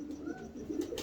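A pigeon coos softly and close by, a brief low throaty call with no talking around it.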